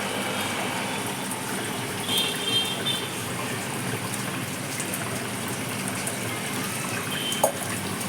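Water runs in a steady, continuous stream into a bowl of coarse semolina, a close, even splashing hiss that lasts throughout with no voices over it.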